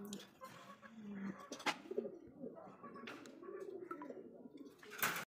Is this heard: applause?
no